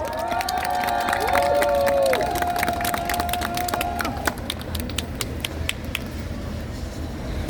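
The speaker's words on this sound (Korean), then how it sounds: "큰 박수 부탁드립니다." A crowd at a campaign rally cheers and claps for several seconds, shrill whistles or horns rising above at first, then scattered applause tapering off.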